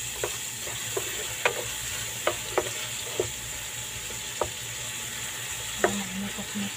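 Chicken wings frying in a pan with tomatoes for adobong sitaw, a steady low sizzle broken by a series of sharp pops and crackles spaced a second or so apart, close by and with no one talking.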